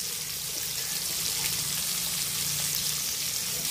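Fish sizzle and fry steadily in hot oil in a pan, a dense continuous crackle that holds at an even, close level throughout with no voices.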